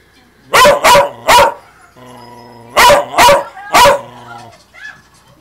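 A dog barks at a black cat in two close bursts of three loud barks each, with a low whine between the bursts and a faint yip at the end.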